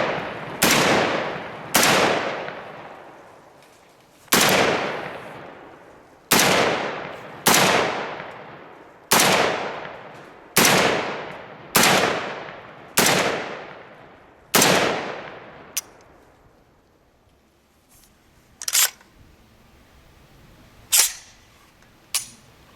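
CMMG MK47 Mutant rifle firing outdoors, a series of about ten sharp, loud single shots with ringing decay, spaced a second or two apart, followed by a pause and a few more scattered shots.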